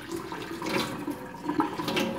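Running water washes out a container at a sink, a steady low splashing and trickling that rises and falls throughout with no talk.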